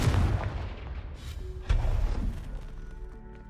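Confringo blasting spell explosion in Hogwarts Legacy, two heavy booming blasts with rumbling decay, the second one sharper and louder, heard with no talk over it.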